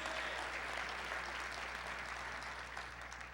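A church congregation gives a sustained round of clapping for the Lord, dense and even, fairly soft and set back over a low steady hum.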